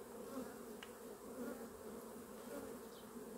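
Honeybees buzz steadily inside a beehive during queen-cell rearing with the queen present, a dense, continuous close drone that holds at an even level throughout with no talking.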